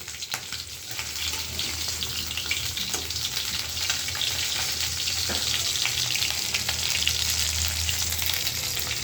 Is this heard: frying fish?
yes